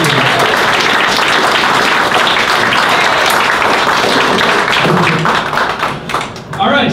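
Sustained audience applause fills a brewery-hosted science talk night, steady dense clapping throughout that thins slightly near the end before a final burst.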